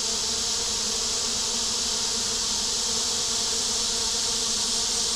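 On a hot day, a swarm of honey bees clustered outside their hive gives off a continuous, dense, even buzz that stays close and unchanging throughout, with no speech.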